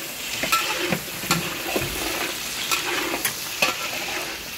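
Carrots and pork belly are stirred in a sizzling frying pan at a private resort catering job in Angeles, Pampanga, steady frying hiss broken by repeated scraping clacks of a spoon, close and without talk.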